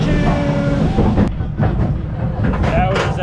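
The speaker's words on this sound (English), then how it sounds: "there goes the train." The Kumba roller coaster train at Busch Gardens thunders by with a loud, rumbling roar and rattling clatter, while voices cheer and shout over it.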